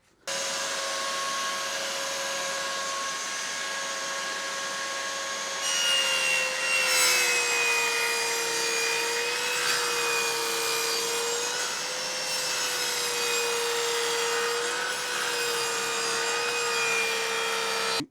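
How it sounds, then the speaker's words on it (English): A cheap Chinese table saw built into a workbench whines loudly and steadily as it cuts wood, the pitch of the spinning blade dipping and wavering slightly as the load changes partway through. "this is cheap Chinese table saw that I've put into my workbench and it's a bit noisy"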